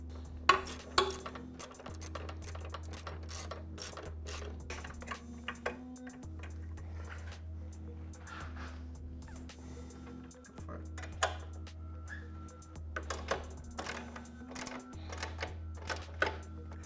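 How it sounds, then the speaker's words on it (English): A ratchet on a 1/4-inch drive 13mm socket with a swivel tightens Tusk skid plate bolts on a Honda Transalp XL750, giving scattered bursts of sharp clicking over a steady low hum. "we're actually going to use this 1/4 inch drive 13mm socket on the swivel"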